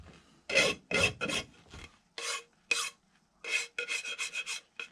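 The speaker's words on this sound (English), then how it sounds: "Now, this seems hard. It's filing." Rasping strokes of a file on a green, still-machinable composite landing gear mold, about ten short bursts in an irregular rhythm with brief pauses between, close and moderately loud, no voices.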